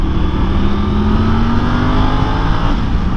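A Triumph Tiger 900 Rally Pro 900cc motorcycle accelerating in third gear from about 30 mph, with a steady engine drone and a slowly rising tone under loud continuous wind rush.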